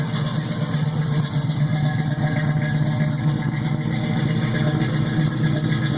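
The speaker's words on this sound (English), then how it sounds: "I've turned the idle up a little bit." A carbureted car engine with a newly installed Holley carburetor idles with the idle set slightly high, giving a steady, close, even low rumble throughout with no talking.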